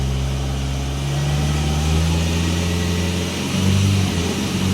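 A car with an automatic transmission accelerates under power, heard up close as a steady engine drone whose pitch climbs and then drops at each gear change, with no talking over it.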